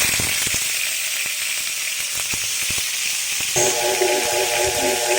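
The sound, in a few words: fish frying in oil in a pan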